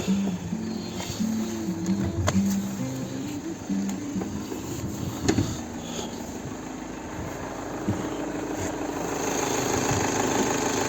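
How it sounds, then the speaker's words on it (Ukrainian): A 2013 VW Sharan 2.0 TDI diesel engine idles steadily nearby, a low even rumble with a faint rhythmic knock and occasional clicks, without any voices. "Двигун працює ідеально рівно, покажу, що в нас зараз під капотом"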